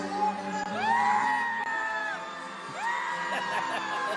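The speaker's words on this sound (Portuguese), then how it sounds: "olha, o pessoal tá gritando" Concert audience shouting and cheering, a loud continuous crowd roar with rising whoops and yells cutting through, with no gaps across the short span.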